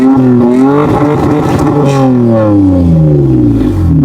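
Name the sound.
Toyota Tacoma revving with cat-back stainless steel exhaust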